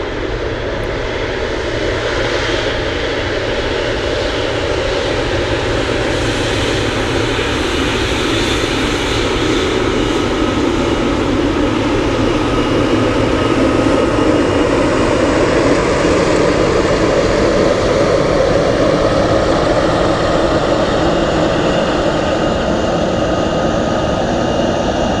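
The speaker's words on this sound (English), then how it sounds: "We have a big 777 on final approach." A Boeing 777 on final approach to land at Anchorage in gusty winds gives a loud, sustained jet roar with a high engine whine, swelling slightly through the middle and continuing alone.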